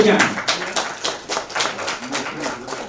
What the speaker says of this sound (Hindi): तो एक बार जोरदार तालियां भाई हम सब के लिए।